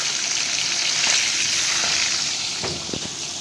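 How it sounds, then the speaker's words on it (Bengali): Fish pieces frying in hot oil in a pan give a steady, close sizzle that holds throughout, with a few soft clicks of the fish or pan near the end and no voices. "বাদ বাকি মাছ কটাও দিয়ে দিলাম, এবার ওগুলোকেও ওইভাবেই ভেজে নেব"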